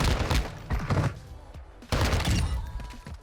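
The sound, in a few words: ISO Hemlock firing laser tracer rounds in Modern Warfare II video game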